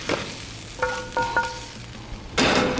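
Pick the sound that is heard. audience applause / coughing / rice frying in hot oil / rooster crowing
rice frying in hot oil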